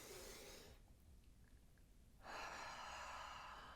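A deep breath drawn in through the nose during a seated breathing exercise, heard as soft, close airy rushes at the start and again near the end, with a quiet pause between and no talking.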